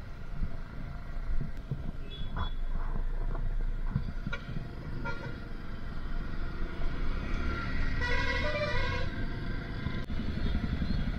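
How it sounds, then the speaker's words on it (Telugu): Busy Gachibowli road traffic with engines droning, motorcycles passing and scattered horn toots, a couple of longer honks cutting through the steady rumble. "Welcome to Gachibowli traffic."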